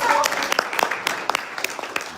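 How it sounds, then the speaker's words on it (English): Scattered audience applause welcoming a speaker at a conference, a modest round of separate claps that tapers off within a couple of seconds. "Please give a warm round of applause"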